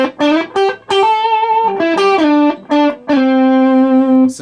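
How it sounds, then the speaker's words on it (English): Electric guitar played through an Electro-Harmonix Glove distortion pedal on the clean channel of a Jet City JCA22H amp, with sustained, harmonically rich distorted notes and short phrases separated by brief gaps, loud and alone. "I'm using actually an Electro-Harmonix glove distortion pedal on the clean channel"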